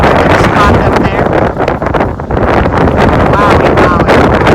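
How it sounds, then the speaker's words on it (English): Strong wind gusts of around forty miles an hour buffet the microphone on a Minnesota farm, a loud, continuous roar that dips briefly before surging back. "40-mile-an-hour gusts ain't fun."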